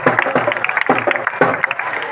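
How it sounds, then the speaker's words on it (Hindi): A large crowd at a Haryanvi singer's event claps in a loud, continuous wash of applause, with a voice heard through it. "जोरदार तालियां भी चाहूंगा"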